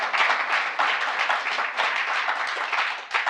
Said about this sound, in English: You should be clapping by this point.